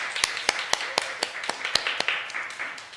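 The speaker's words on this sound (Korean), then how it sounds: "우리 찬양팀을 위해서 우리 한번 박수합시다." Scattered claps from a church audience at a Korean summer retreat, about a dozen sharp, irregular slaps over a soft room hum, with no voices.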